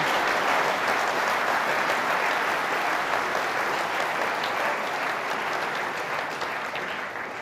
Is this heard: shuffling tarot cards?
no